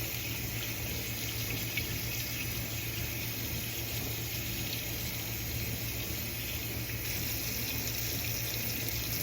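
Tap water runs steadily into a sink while strawberries are washed, a soft, even hiss with no break and no voices.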